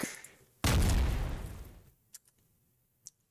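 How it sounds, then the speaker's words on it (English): A single heavy explosion in the Minetest video game, a sudden loud boom that rumbles and fades over about a second, followed by a few faint ticks and small pops. "Already got some explosions."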